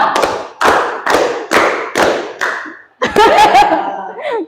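A class of students claps a counted 2-3-1 hand-clap pattern in a group guidance session, with loud, close bursts of clapping in groups separated by short pauses, followed by a brief burst of laughter and chatter.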